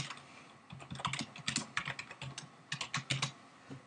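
Quick bursts of clicking on a computer keyboard as a new name is typed for a task list, close and crisp with short pauses between runs of keystrokes and no speech.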